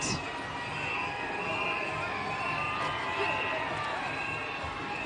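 Dense, steady crowd noise fills the air at a Mobile Area Mardi Gras Association parade in downtown Mobile on Fat Tuesday, a continuous wash of cheering and shouting voices with no pauses throughout.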